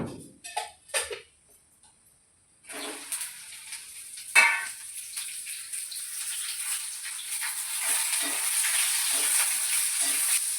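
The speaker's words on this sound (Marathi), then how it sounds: "भेंडी असं एकसारखी भाजून घ्यायचं" Okra frying in a little oil in a hot kadhai for a dhaba-style bhindi dish, a steady close sizzle building after a few sharp clinks of a utensil at the start.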